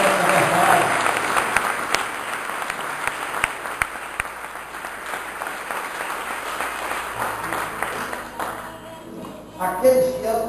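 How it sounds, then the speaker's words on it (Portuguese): A church congregation breaking into applause, a dense wash of clapping that fills the room and swells again near the end, with a voice faintly audible beneath it. "Dê um aplauso ao Senhor"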